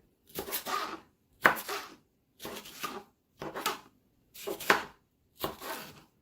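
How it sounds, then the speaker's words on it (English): A knife chops bell peppers and Scotch bonnet on a board while preparing Jamaican callaloo with saltfish, six separate bursts of quick close chopping with short pauses between them and no talk. "while we're chopping up our peppers and prepping everything"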